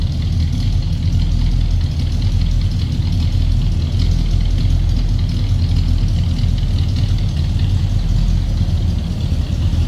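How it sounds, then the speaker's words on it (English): A 1964 Oldsmobile Jetstar 88 Celebrity Sedan idles steadily from behind the car, its deep, throaty exhaust rumbling loud and constant with no break. "Nice deep throaty exhaust note."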